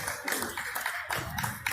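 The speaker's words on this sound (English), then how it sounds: "And they're clapping." Crowd at a Pride rally in Pennsylvania claps in steady bursts, close and fairly loud, with outdoor commotion underneath.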